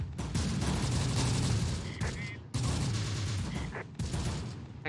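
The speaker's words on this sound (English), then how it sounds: "Who's he shooting at?" Gunfire in the video game Close Combat: The Bloody First comes as dense, overlapping bursts of shots and rattling fire, loud and continuous with brief breaks, with faint talk beneath.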